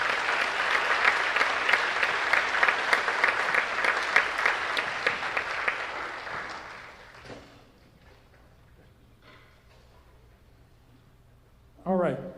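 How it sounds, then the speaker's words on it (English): A board of education meeting audience gives a loud round of applause lasting about six seconds before fading out, followed by a quiet room, brief speech and a short burst of sound near the end. "Let's give them one big round of applause."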